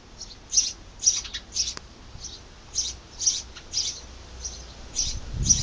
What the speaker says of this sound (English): They have baby birds.